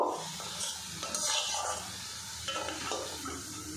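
Oil sizzles steadily in a pan while a utensil stirs and scrapes, turning small frying dough balls with soft clinks.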